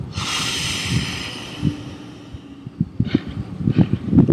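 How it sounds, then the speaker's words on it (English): A single deep inhale through the nose during a guided spiritual meditation: a soft, airy rush near the microphone that fades after about a second and a half, followed by quiet, uneven breath and shifting sounds. "And take another deep breath in."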